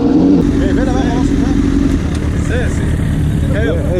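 The engine of a Suzuki Gixxer motorcycle on the road drones steadily and loudly throughout, with talking heard over it.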